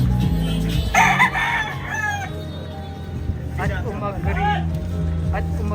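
A rooster crows twice in Tondo's Happy Land neighborhood, the rising calls standing out over steady background noise while someone talks throughout.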